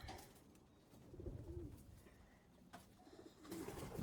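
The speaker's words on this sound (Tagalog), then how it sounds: "Ang ganda ng katawan ng mga young bird." Young flying pigeons give soft, low cooing calls close by, with a few breathy coos rising and fading against faint outdoor background noise.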